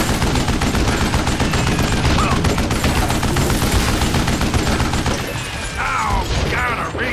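Heavy gunfire in Call of Juarez: Gunslinger, a dense rattling volley with mechanical clatter that eases off near the end. Faint voice-like sounds come in over the final seconds.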